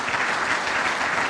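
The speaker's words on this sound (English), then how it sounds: "Let's give them a round of applause." A crowd at the 2018 SDDC change of command ceremony gives a sustained round of applause. The clapping is even, full and continuous, with no voices rising above it.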